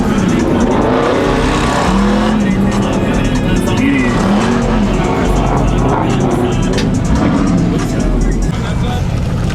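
A car engine revs hard over a dense roar of road and tire noise, rising and falling in repeated pulls while voices are heard beneath it; the engine has a raspy tone when off the gas.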